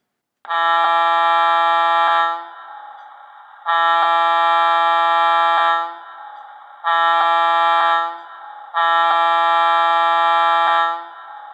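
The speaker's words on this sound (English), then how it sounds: "Yeah, I gotta love that GG1 horn." A Lionel GG1 model electric locomotive horn blows four long, steady blasts with short pauses between them, loud and close, with a faint mechanical hum underneath.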